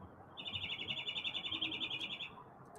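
A pet bird gives a quick run of high, rapid chirps at moderate distance, repeated evenly for about two seconds against faint room noise.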